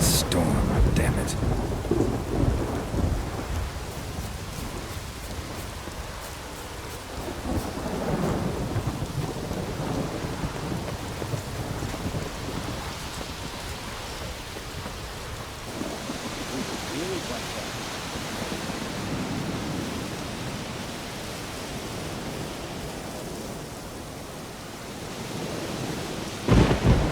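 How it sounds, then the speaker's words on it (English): A thunderstorm in The Witcher 3 rolls on with heavy steady rain and deep rumbling thunder, loud and continuous, while voices speak over the storm. "A storm, damn it."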